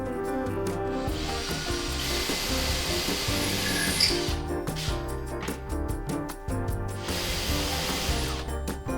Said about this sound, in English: Step 3 is drilling the index hole into the back of the drawer.